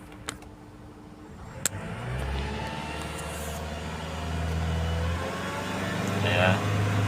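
A Kia K2500 truck engine with low power and vibration idles and then climbs in revs during an RPM check, a steady low hum rising and holding near the microphone, with a couple of sharp clicks early on.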